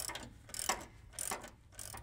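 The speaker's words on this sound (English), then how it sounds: "I can undo the lower control arm bolts followed by the upper control arm bolts." A ratchet undoes control arm bolts on a 1999 Chevy Silverado, giving close, sharp clicking bursts in a quick back-and-forth rhythm with short pauses between strokes.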